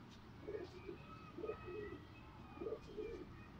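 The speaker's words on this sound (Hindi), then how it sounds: "ये कौन सा कबूतर है?" Pigeons on a rooftop coop give soft, low cooing calls in repeated two-part phrases, faint against a steady background hum, with no voices heard.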